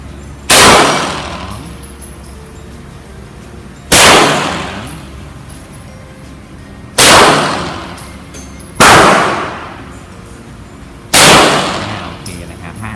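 Five loud, sharp pistol shots from a Glock 17 Gen 5 fired at a 10-meter range, spaced a few seconds apart, each with a short ringing tail outdoors.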